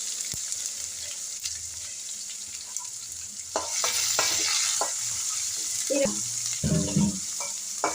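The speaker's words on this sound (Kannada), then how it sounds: "ಸ್ವಲ್ಪ ಇಂಗು, ಇವಾಗ ಬೆಳ್ಳುಳ್ಳಿ ಮತ್ತೀಗ ಕರಿಬೇವು, ಈರುಳ್ಳಿ ಹಾಕೋತಾ ಇದ್ದೀನಿ" Asafoetida, garlic, curry leaves and onion fry in a pan for tomato chutney, giving a steady bright sizzle with scattered stirring clatters and louder spatter bursts toward the end, close and without talk.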